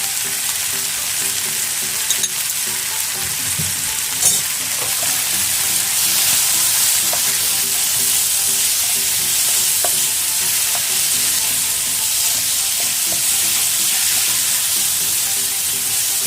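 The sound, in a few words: chicken frying and being stirred in a pan until dry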